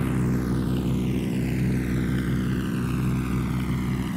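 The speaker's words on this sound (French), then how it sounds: "On va pulvériser l'hélico d'abord." A helicopter flies in the video game Ghost Recon Wildlands, a loud continuous rotor and engine roar with a steady pulsing beat and a shifting whine, unbroken throughout.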